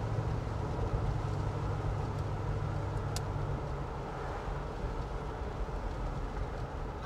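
A 1971 Buick Riviera Boattail cruises along the highway, its broad, even road and engine rumble steady and continuous from inside the car, with a low hum that fades partway through and no voices.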